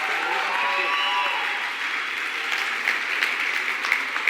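An audience at a church service claps for a group of juniors, a steady wash of applause that builds slightly toward the end, with a faint sustained tone early on.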